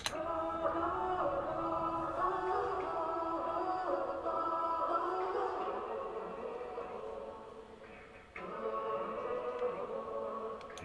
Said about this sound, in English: We also had a secondary vocal chop as well, which kind of breaks the beat down a bit